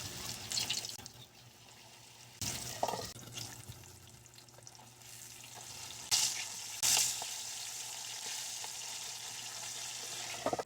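Milkfish fries in a pan with a soft, steady sizzle, broken by a few louder splashing bursts and brief clatter, fairly quiet and with no voices.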